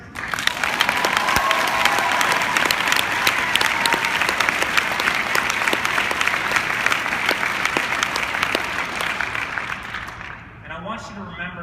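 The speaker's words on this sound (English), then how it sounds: "So clap your hands if you believe in fairies." An audience at a leadership talk claps loudly and continuously in a dense, crowded wash, fading near the end as a voice speaks.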